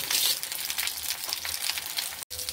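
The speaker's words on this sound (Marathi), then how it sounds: "हे बघा, आपलं हे वांग कसं फ्राय झालं आहे" Brinjal (eggplant) pieces fry steadily in an oil-filled pan, giving a continuous close hiss and sizzle with a short break near the end.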